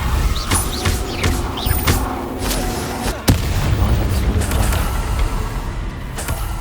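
Confringo explosive fire spell cast in Hogwarts Legacy, a sharp blast bursting out midway through continuous rumbling combat ambience, with scattered crackles and thuds before and after.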